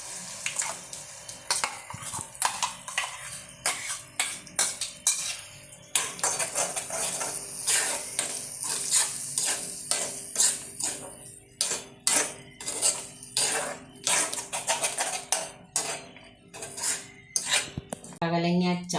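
Snake gourd chutney being stirred in a pan, with a spoon repeatedly scraping and clinking against the metal in irregular close strokes, alone without talk.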